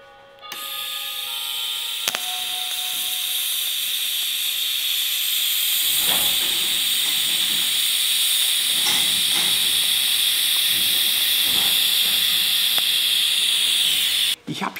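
TIG welding torch arc at 70 amps on 4 mm steel sheet with filler rod added, a continuous loud hiss that starts abruptly, runs steadily with faint crackles, then cuts off near the end.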